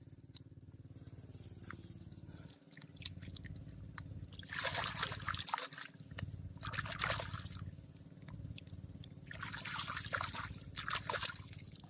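Running water trickles and splashes while lukan shellfish are rinsed, with soft irregular bursts of pouring and dripping close by and no talk.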